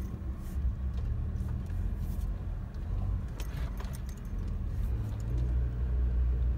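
A Suzuki Jimny mini truck creeps along in low range first gear, its engine giving a low, steady rumble close by, with light rattles and clinks from the cab over the drone and no talking.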